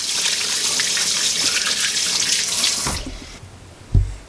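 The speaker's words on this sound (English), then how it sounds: "I'll wash my hands here." Running water pours steadily from a tap into a sink as hands are washed, then the flow cuts off near the end, leaving a brief thud.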